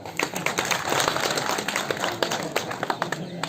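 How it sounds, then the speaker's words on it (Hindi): An audience claps at a village sales-plan talk, a brief burst of scattered, fairly close handclaps that run steadily for a few seconds. "भाई साहब के लिए ताली बजाओ"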